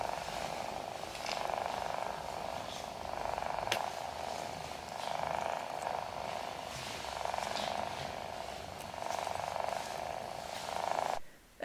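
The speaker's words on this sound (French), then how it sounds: "On va commencer par le ronron de Cassis, qui fait des ronrons assez facilement et c'est assez audible" Cassis, a black cat, purrs close up in a soft, continuous rhythmic rumble, each breath cycle faintly pulsing.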